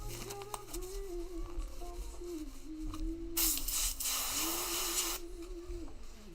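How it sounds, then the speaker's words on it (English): An airbrush sputters and hisses as it is backwashed during cleaning, with short bursts of spray over a low background hum. A stronger, sustained hiss rises near the middle and holds for a couple of seconds. "Kind of backwash it a few times. Make sure it sprays out."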